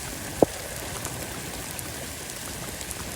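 Rain falls in a steady, even patter with one sharp drip or tap near the start. There is no talking.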